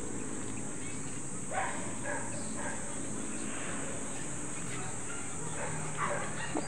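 A dog across from a house barks and growls at a passerby: a few short, fairly distant barks come in bursts over steady background noise, with faint voices in the scene.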